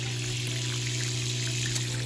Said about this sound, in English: A little pump coming up through to the very end of the sluice here.